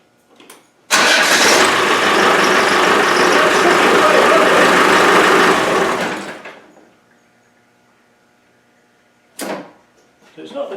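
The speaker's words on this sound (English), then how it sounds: "I'm going to start the car up again" A car under repair with a hardened seal, a hand held over a valve, cranks and fires up loudly, then runs steadily for about five seconds before dying away. A brief clunk and faint noises follow.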